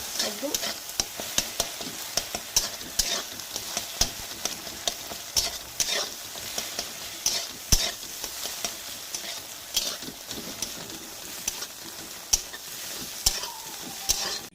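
An egg frying in hot oil in a wok, a constant bright sizzle punctuated by frequent sharp spatula scrapes and taps at an irregular rhythm, close and lively for the whole stretch.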